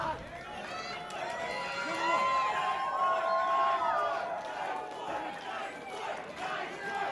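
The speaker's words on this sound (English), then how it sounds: "This crowd is fired up." Crowd cheering at a live independent wrestling show, a sustained roar of voices and shouts swelling in the middle and then easing, with crowd chatter underneath.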